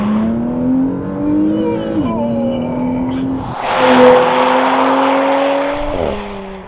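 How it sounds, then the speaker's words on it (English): A 440 hp Porsche Macan GTS launching hard from a standstill, the engine roaring loudly and climbing through gears with brief dips at each shift, heard close from inside the car. "Left foot hard on the brake, floor the throttle."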